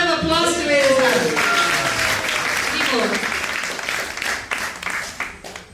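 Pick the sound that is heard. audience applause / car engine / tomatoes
audience applause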